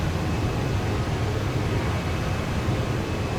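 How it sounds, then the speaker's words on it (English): Jet engines of a big airliner at full throttle down the runway in a video game, a constant loud roar with heavy low rumble that holds unchanged throughout. "The jet engines sound a lot different to the old plane."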